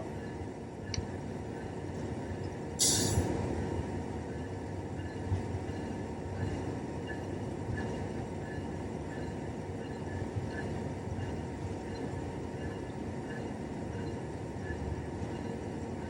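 A model railway train rumbles continuously along the track on a downgrade at slow speed, a steady mechanical drone with a brief high hiss early on, close and even throughout.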